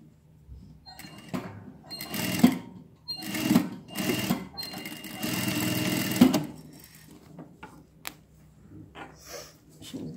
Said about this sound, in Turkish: Kez klapadan gelen dikişi devam ettirerek etek ucuna kadar dikiyorum